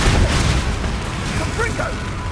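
A Confringo blasting spell explodes in Hogwarts Legacy, a loud booming burst at the start that rumbles on beneath a faint voice.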